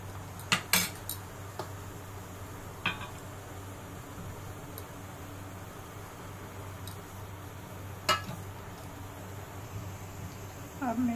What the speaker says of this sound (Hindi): इसमें मैं अब दही मिलाऊंगी।